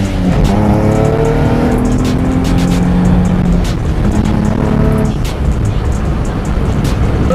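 A 600 hp twin-turbo Z1 600R prototype car drives hard, its loud engine droning and shifting pitch continuously up close, with a brief tire squeal.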